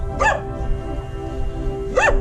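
Dogs barking in Indonesia: two sharp, loud barks about two seconds apart, close by, over a low background hum.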